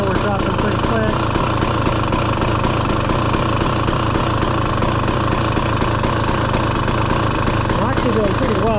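Engine of a 2023 KTM 300 XC dirt bike idling at normal idle, a steady continuous close running drone with regular rhythmic pulsing, heard under someone talking throughout.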